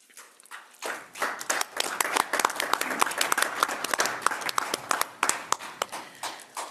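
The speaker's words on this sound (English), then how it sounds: "Oh, she's just clapping." A single person claps during public comment at a county board of supervisors work session. The quick, steady claps sound close and distinct in a quiet room, starting after a short pause.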